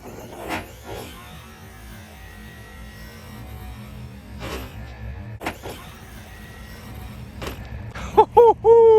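A Traxxas Sledge RC monster truck whines past with a rising electric motor buzz and tire rumble, its drone swelling from a distance and closing with sharp tonal squeals near the end.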